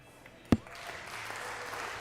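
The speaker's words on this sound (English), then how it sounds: "And we hear the crowd again. I think it's the juniors tables." A crowd at nearby junior tables during a women's 10-ball pool championship swells into a broad murmur of applause and cheering, preceded by one sharp knock close by, steady and moderately distant.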